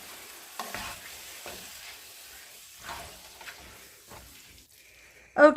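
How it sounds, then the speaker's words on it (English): Ground meat seasoned with salt and pepper fries quietly in a pan. Intermittent scraping strokes of a spoon stir it over a low sizzle, and a louder clatter comes at the very end, with no talking. "we'll just stir it up a bit, and we'll give it a few more minutes to cook before we take it off the heat"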